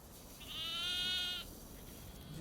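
A single sheep bleats once in a clear, wavering call lasting about a second, fairly close and loud, over faint outdoor background.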